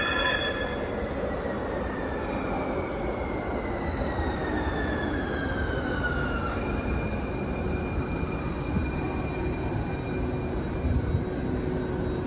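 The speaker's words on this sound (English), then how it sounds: "here comes our train to Chinatown" A San Francisco Central Subway train rumbles steadily into the station, wheels squealing with high, sliding tones over a continuous loud roar.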